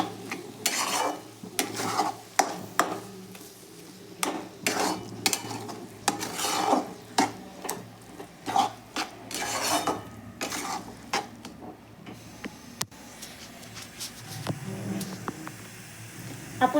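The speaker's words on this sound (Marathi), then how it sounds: "अंडे टाकलेले आहेत त्याच्यात आणि आता मिक्स करून घेतलेलं आहे." Beaten eggs being stirred in a frying pan for egg bhurji, with repeated scraping and clinking of a spoon against the pan over a soft sizzle, at close range.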